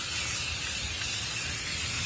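A spray paint can hisses in one steady, unbroken jet for about two seconds, close and fairly loud, with no talking over it; the paint is going onto an outdoor mural.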